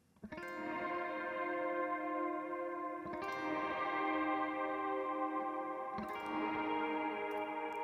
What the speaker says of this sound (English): I'm kind of using that same delay and reverb throughout the entire song.